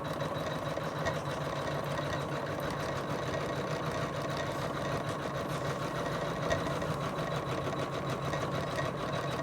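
An embroidery machine stitching an outline onto a towel runs in a steady, rapid mechanical hum with a rhythmic needle chatter, constant and fairly close, with no voices.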